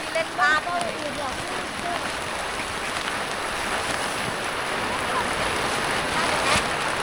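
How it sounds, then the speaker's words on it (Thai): Rain falls steadily in a rural countryside setting, a continuous broadband hiss of drops on surfaces with wind mixed in, moderately loud and unbroken, while voices briefly talk near the start. "ฝนลงมาแล้ว"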